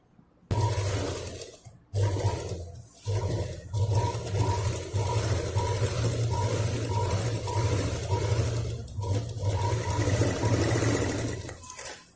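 A sewing machine stitches a seam on a handmade drawstring-pouch handbag with no sponge or zip, running steadily and close up, with brief pauses near the start and middle before the motor whirs on again.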